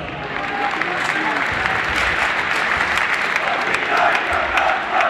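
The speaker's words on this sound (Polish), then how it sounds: "Brawa, brawa jeszcze raz na wszystkich." Sustained crowd applause at a youth sports award ceremony as winners are honoured, a dense, loud wash of clapping that stays even throughout with a faint voice beneath it.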